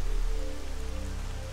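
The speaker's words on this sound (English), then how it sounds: "raining and thunder" Steady rain patters on a surface in a soft, even hiss, with a low hum underneath, in the video game Arma 3 on an overcast, stormy map.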